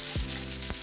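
Fennel seeds fry in a pan with a dense, steady sizzle, broken by a couple of quick stirring scrapes, heard close.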